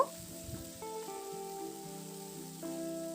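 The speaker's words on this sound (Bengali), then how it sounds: "আদা রসুনের পেস্টটা দিয়ে একটু নাড়াচাড়া করে নেব যতক্ষণ না পর্যন্ত আদা রসুনের যেটা কাঁচা গন্ধ চলে যাওয়া পর্যন্ত এটাকে একটু নাড়াচাড়া করে ভেজে নেব।" Ginger garlic paste fries with onions in a pan, giving a low, quiet sizzle under clinks and scrapes of stirring. A few sustained tones ring in the background.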